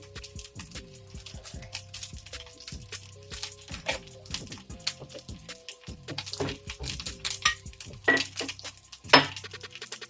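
A spoon clinks and scrapes around a metal pan while spices are mixed into egg semiya, giving a busy series of light, uneven clatters and taps, close and fairly crisp, with no voice over them.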